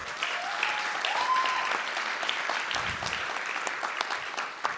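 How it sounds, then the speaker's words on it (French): Audience at a conference talk applauds to honor a colleague, steady full clapping with a brief voice or whistle early on, lasting throughout at even loudness. "que je vous demande d'applaudir."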